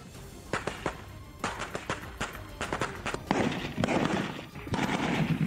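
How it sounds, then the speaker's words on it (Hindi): Gunfire from Ukrainian troops shooting from a bunker at Russian forces, a string of sharp cracks and rapid bursts at uneven intervals, moderately distant, with rustling and scuffing movement between shots. "वीडियो में यूक्रेन की सेना बंकर में छिपकर रूसी सेना पर गोलियां बरसाती दिखी।"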